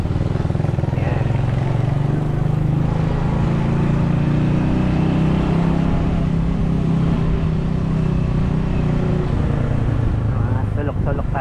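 Motorcycle engine droning steadily and loudly up close while riding through town streets, a continuous low rumble with no pauses, and someone talking over it throughout.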